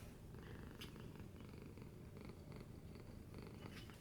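A pair of elderly cats around fifteen years old, one purring close by in a quiet indoor space, a faint, steady rhythmic rumble with soft breathy pulses continuing throughout, no voices.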